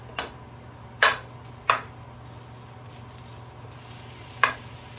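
Sausage gravy meat cooks in a pan while being broken up, with a low steady sizzle under four sharp clacks of a utensil striking the pan at irregular intervals. No voices are heard.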